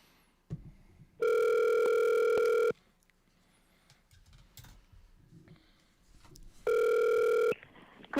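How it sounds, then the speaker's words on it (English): A telephone line plays a loud, steady dial tone twice in separate bursts while a call is being placed. Quiet handling noises and faint clicks fill the gaps between the bursts. "Now we'll call Michael."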